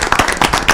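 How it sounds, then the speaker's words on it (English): Brief burst of several quick hand claps from a group at a city council meeting honoring transit employees, close and fairly loud. "Can I get a round of applause for all our transit employees?"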